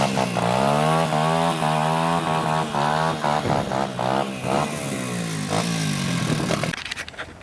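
Power saw cutting steel stock for a mini toy hauler trailer build, a loud continuous whining roar with wavering pitch that fades out near the end.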